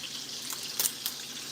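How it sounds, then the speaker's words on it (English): Steak frying in butter and oil with rosemary gives off a soft, steady sizzle and hiss, faint and continuous with a couple of brief spits. "You want to baste your steak in the rosemary"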